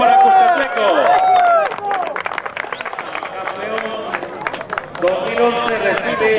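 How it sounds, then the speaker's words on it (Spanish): Crowd at a soccer final applauding and cheering a Salvadoran team, loud dense clapping throughout with shouting voices and crowd babble mixed in. "Aplauso para Cuscatleco."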